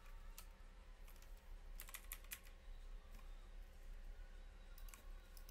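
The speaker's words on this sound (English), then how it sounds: "So I'm just gonna type in something very randomish." Quiet typing on a computer keyboard, light irregular clicks in small clusters over a faint steady background hum.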